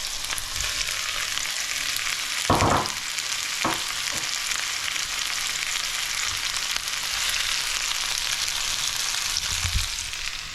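Red peppers fry in a pan with a continuous, close hiss of sizzling oil, and a few dull clunks of stirring occur near the start, with no talk.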